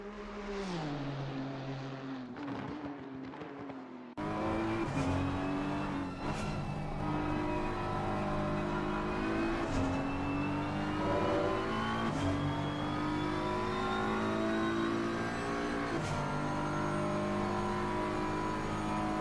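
Race cars in a sim racing game lapping the Nordschleife produce a continuous engine roar with rising and falling revs through gear changes, loud and close throughout, preceded by a quieter engine note before a sudden jump in level.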